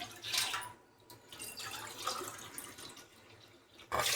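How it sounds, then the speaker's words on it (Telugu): Water poured from a glass into a cooking pot while preparing sorghum sankati gives soft, close splashing bursts that swell and ease over a few seconds, then a sharper splash at the end, all fairly quiet and without talk. "ఇప్పుడు నేను 2 గ్లాసులు పోస్తున్నాను"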